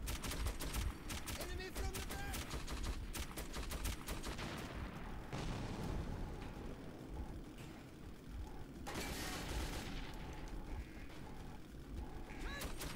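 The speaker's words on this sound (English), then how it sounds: "let your machine gun cool down, cause the rest of the level is gonna be equally intensive and difficult" Mounted machine gun firing from a trolley in the video game Metro 2033, dense rapid bursts of automatic gunfire with metallic clatter, sustained and loud with brief pauses, a voice talking over it.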